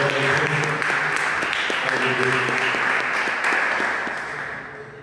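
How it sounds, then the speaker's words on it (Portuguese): A church congregation claps in praise during a worship service, a dense patter of applause beneath voices that carry over it, tapering off toward the end. "as palmas que louvem ao Senhor"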